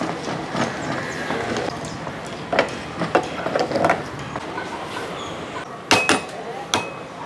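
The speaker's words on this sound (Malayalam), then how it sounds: "എന്നിട്ട് ഒന്ന് ഇളക്കി കൊടുക്കുക." Banana payasam in a Kerala-style pot, just topped up with a cup of hot water, is stirred with a spoon, giving several clinking, scraping knocks against the pot over a low background hum.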